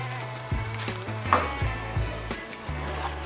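Eggs fry on a Blackstone griddle with a steady sizzle, broken by a few scraping, tapping utensil sounds on the flat top.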